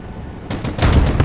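An M1 Abrams tank opens fire in the Broken Arrow video game: after a brief quiet rumble, a rapid series of sharp, loud shots hammers out close by.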